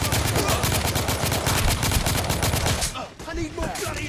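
Rapid gunfire in The Order: 1886 video game, a dense burst of rhythmic loud shots for nearly three seconds, then scattered effects and a lull.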